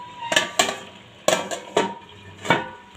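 A metal lid is set onto a pot of foxtail millet khichuri with nuts and grated coconut, giving five sharp, close clanks and rattles spread unevenly across a quiet kitchen.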